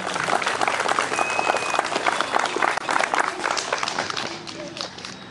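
A crowd at a primary school event claps steadily and densely, a loud continuous applause that holds without a break from start to finish.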